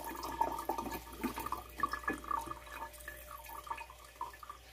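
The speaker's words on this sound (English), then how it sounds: "Yung natira guys na meron pang pwede gamitin na liquid, isasala rin natin guys." Leftover fermented fruit juice for chickens is strained, giving a continuous soft trickling and splashing of liquid with small drips, close by and fairly quiet, with no talking.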